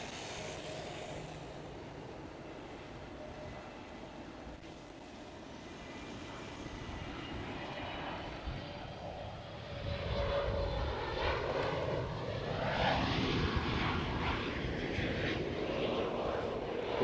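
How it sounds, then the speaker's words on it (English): An SAS Airbus A320neo at Amsterdam Schiphol gives a steady engine roar that swells noticeably louder midway as it passes closer, with rising and falling whine tones over the broadband rumble, heard alone. "It is SAS A320 Neo."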